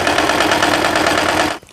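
A sewing machine runs a seam on a long winter blazer near the sleeve, producing a dense, fast rhythmic mechanical whir that runs continuously at close range, then stops abruptly.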